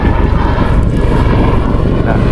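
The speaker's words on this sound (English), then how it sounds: "That high-pitched noise you can hear is the jet engines delivering their combined 1500 shaft horsepower" At an air show, a helicopter's twin Rolls-Royce gas turbine engines roar loud and close, a steady, dense rumble with buffeting wind on the microphone that doesn't let up.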